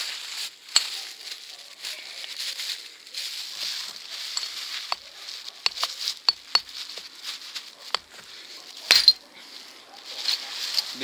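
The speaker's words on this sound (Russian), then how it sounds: "Бутылка из-под водки. Продолжаем тесты стеклобоя." Boker AK-14 knife's glass breaker striking an empty vodka bottle: a series of sharp, bright clinks and taps spread through the clip, with one heavier impact near the end, over faint background rustle.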